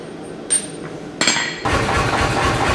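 Hammer driving a drift into a hot forged carving axe head on an anvil: two sharp metallic strikes, then a louder, denser clanging rush begins and continues.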